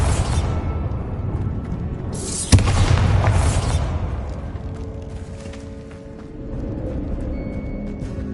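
A Bombarda blast spell in the video game Hogwarts Legacy goes off as one sudden boom with a whooshing burst over a steady game ambience, then fades into quieter background sound.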